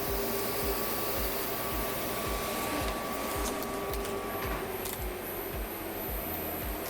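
A laser cutting machine working through adhesive tape gives a steady, loud mechanical hum and airflow roar, with a regular low pulsing thump repeating about every half second throughout.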